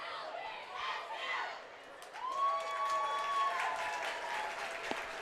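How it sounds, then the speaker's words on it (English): Fans at a college baseball game between Long Beach State and Cal State Fullerton cheer and clap in front of the Dirtbag dugout, with a crowd murmur rising into a sustained shrill shout over steady applause. "There's a cheer being led in front of the Dirtbag dugout."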